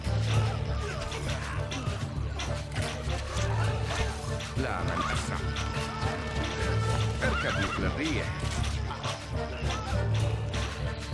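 Horses of mounted horse archers in a battle in the video game Stronghold Crusader, with repeated neighs and whinnies over constant clip-clopping hooves and general battle noise throughout.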